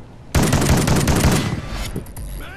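Rapid loud gunfire in the Call of Duty: Ghosts Infected game mode, a dense automatic burst lasting over a second that trails into a fading rattle and echo.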